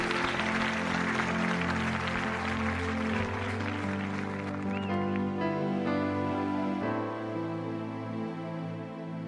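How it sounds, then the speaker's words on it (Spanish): A church congregation applauds loudly for Jesus, a dense wash of clapping over sustained keyboard or organ chords that thins out midway while the music carries on. "Un aplauso fuerte a Jesús."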